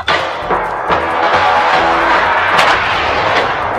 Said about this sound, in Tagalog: narinig na namin ang pagsabog mula sa ilalim